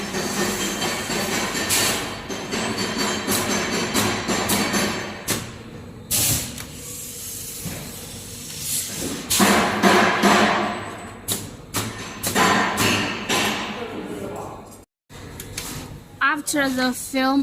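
A multi-lane stick bag packing machine runs with rhythmic mechanical thumps, clatters and whirring, loud and close, while a person talks over it; a brief silence near the end, then the machine resumes.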